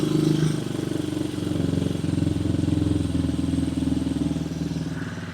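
A Honda Hawk 250 motorcycle fitted with a NIBBI carburetor idles close by, a steady, throbbing low putter with an even rhythm that continues throughout with no talk.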